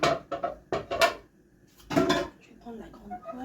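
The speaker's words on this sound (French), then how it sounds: "Je vais prendre la grande poêle." A large frying pan is pulled out in a home kitchen with several sharp metallic clanks and clatters of cookware, then quieter shuffling, with soft voices in the background.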